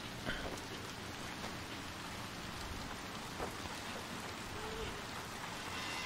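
Steady, dense rain hisses without pause in the video game Little Nightmares 2, a constant wash of drops with no voices over it.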